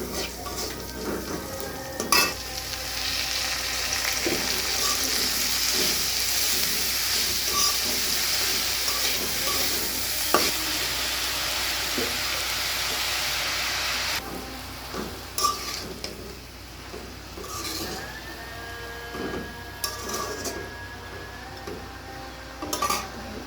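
Chopped leafy greens fry in a pan on a home stove, a steady soft sizzle and hiss with occasional stirring scrapes and clinks of utensil against pan, quieter stretches in the second half.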